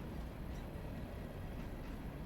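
Low, steady rumble of a stationary train held by its brakes in the Railroader video game, a continuous dense noise with no talk over it.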